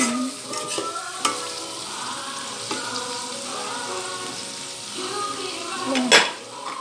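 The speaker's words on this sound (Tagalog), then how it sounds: "So, add natin yung hotdog. Haluin lang." Hotdog pieces being stirred in a frying pan, with the utensil scraping and clinking against the pan over a soft sizzle, close up and ending in a louder scrape.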